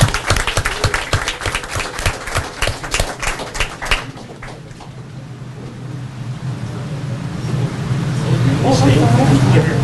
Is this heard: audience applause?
yes